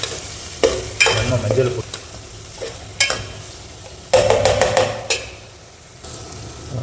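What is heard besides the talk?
onion sautéing in a pan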